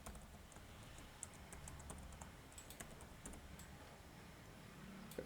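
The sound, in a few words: typing a password on computer keyboard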